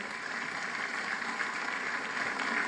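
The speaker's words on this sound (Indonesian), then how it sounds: "Tepuk tangan dong Iya. buat 2R." A studio audience at a televised religious talent competition applauds a beatbox act, a continuous even roar of many hands clapping at steady loudness.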